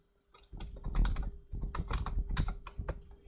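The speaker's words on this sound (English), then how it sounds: "simply by typing the name into an individual document" Fingers type a name on a computer keyboard, a close, busy run of quick clicking keystrokes with brief pauses, no voices.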